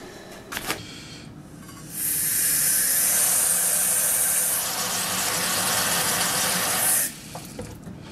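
Water rushes and splashes into a dog bowl for about five seconds, a loud, steady hiss that starts and stops abruptly, with brief faint rustles before and after.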